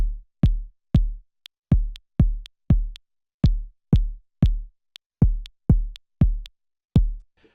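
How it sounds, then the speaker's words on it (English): Arturia DrumBrute Impact kick drum pattern in 7/8 time, booming low kicks with a long tail in an uneven repeating groove, accompanied by thin, high metronome ticks marking the beat. "we're going to start off by making a kick drum part in 7/8"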